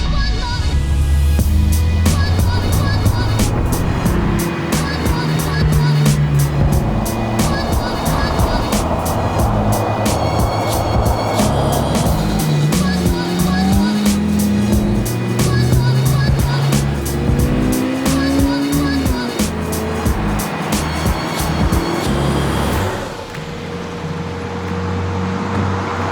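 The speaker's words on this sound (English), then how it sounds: "Dino and I are pulling out right now of Daikoku" A car pulls out of the Daikoku parking area in Japan and drives away, engine note rising and shifting through gears loudly and close, with tire noise and a brief drop as it settles.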